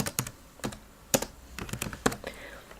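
Someone types a name on a computer keyboard: soft, irregular key clicks in quick small clusters, close by but quiet, with no talking over them.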